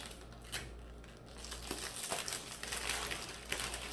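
Adhesive tape is pulled and pressed onto the edges of a kids' DIY birthday gift basket, making close, crinkly rustling and tearing that swells and continues steadily.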